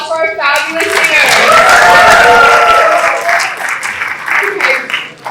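Audience at a South Asian student cultural show applauding its singers, a loud, sustained burst of clapping from a crowd that swells and then gradually thins out, with some vocal tones and cheering mixed in.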